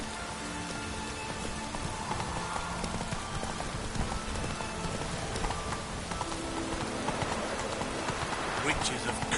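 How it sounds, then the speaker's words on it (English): Rain conjured by witches in a PS4 video game, a steady hiss of falling rain and pattering drops continuing throughout under game sounds, with a voice talking over it. "Witches have conjured rain."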